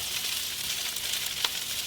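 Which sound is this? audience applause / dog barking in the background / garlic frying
garlic frying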